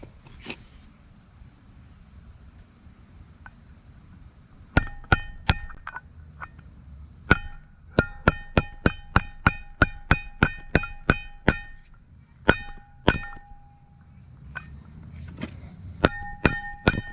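A socket is hammered against a part on a flywheel during a Ford clutch installation, producing sharp metallic ringing clinks, first a few separate strikes, then a quick rhythmic run of about a dozen, and a few more, close and loud.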